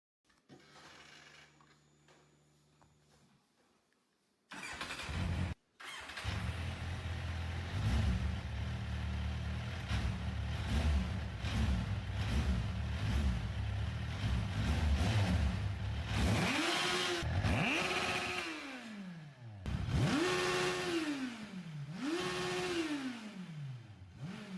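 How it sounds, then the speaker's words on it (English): A restored motorcycle engine cranks, catches and settles into a steady idle, then is revved several times in rising and falling swells, loud and close after a quiet start. "this bike now starts and runs perfectly"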